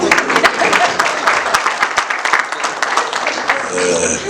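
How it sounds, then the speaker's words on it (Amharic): An audience applauds at a gathering honouring an Ethiopian artist, with dense, loud, sustained clapping from a nearby crowd. "ካጨበጨባችሁ በደንብ አጨብጭቡ።"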